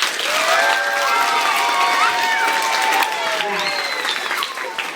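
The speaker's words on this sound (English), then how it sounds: "Give yourselves a round of applause." Children clap and cheer after a police department Red Ribbon Week school event, a dense, steady round of applause with excited young voices shouting through it.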